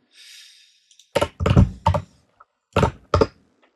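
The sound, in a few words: typing on a computer keyboard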